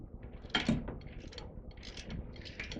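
A breaker bar working loose a 22 mm strut bolt on a Lexus RX330 front strut, giving faint ratcheting, creaking metal clicks and small knocks at close range with no talking.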